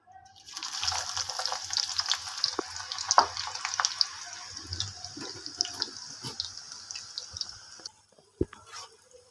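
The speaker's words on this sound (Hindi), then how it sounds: "ये देखिए ऑयल गर्म हो चुका है। तो अब इसमें प्याज ऐड करते हैं।" Sliced onions hit hot oil in a pan while cooking chicken liver masala, giving a steady close sizzle and hiss for about eight seconds that then drops away, followed by a couple of brief clatters.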